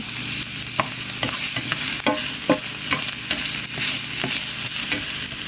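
Onion, garlic and salt fry in a pan with a constant loud sizzle, while a spatula stirs and scrapes them in repeated quick strokes.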